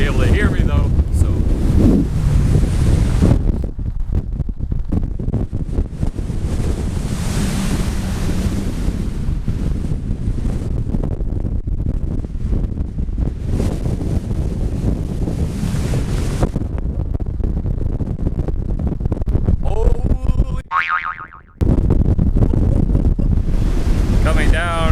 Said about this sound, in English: the wind is still no joke.